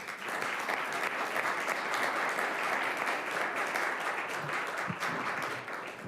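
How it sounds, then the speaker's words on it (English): A room full of people at a city council meeting applauds the Ridley team, steady dense clapping that holds for several seconds before tapering slightly. "a round of applause for Ridley."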